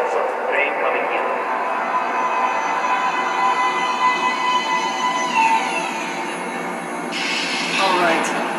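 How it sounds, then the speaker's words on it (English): A metro train in the video game Metro: Last Light Redux rolls into a platform with a steady loud mechanical rumble and whine, a faint hiss rising near the end. "Please step away from the edge of the platform. Train coming in."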